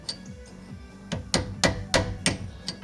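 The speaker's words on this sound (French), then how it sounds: "chasse goupille, marteau, normalement ça doit pouvoir faire l'affaire" Sharp metallic hammer strikes on a pin punch knock at a rusted rear-axle bracket on a Peugeot 309 GTI, about ten blows, the later ones louder and evenly spaced, close and without talk.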